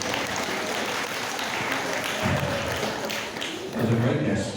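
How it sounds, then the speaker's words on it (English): A crowd at a sheep shearing show gives a loud, dense round of applause, swelling toward the end with some voices mixed in. "Give them a massive round of applause over there."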